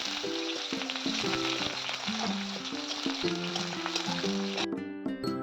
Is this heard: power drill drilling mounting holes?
no